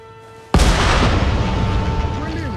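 A cannon fires in Nioh 3, one sudden loud boom bursting out of a quiet tonal hum, followed by a long rumbling, debris-filled tail that stays loud to the end.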